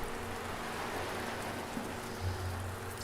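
Steady rainfall in the video game Sector Unknown, a dense continuous hiss of drops on a catwalk setting with a low rumbling bed underneath, even and unbroken throughout.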